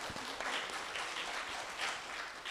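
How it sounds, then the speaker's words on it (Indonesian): An indoor audience at a batik and culture event claps in a steady, fairly soft continuous patter with little talk over it. "tepuk tangan nih untuk budaya."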